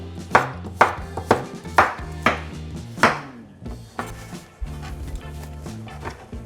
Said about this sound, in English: so I'm just gonna cut them quickly like that